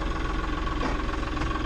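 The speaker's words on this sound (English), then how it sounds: "I'm just unloading the tractor off the trailer so I can reload the sprayer in the morning" A farm tractor engine runs steadily during unloading off a trailer at night after spraying. It gives a continuous low rumble with a slight knocking pulse, close and fairly loud, with no talk.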